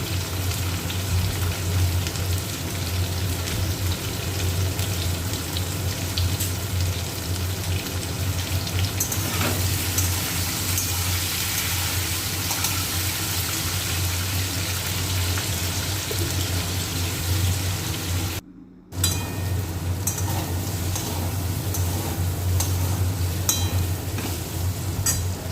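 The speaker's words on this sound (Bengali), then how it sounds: "একটু আদা রসুন পেঁয়াজ বাটা দিয়েও ভাজলাম" Potatoes fry with ginger, garlic and onion paste, a steady hissing sizzle running throughout with faint stirring noises and a brief dropout near the end.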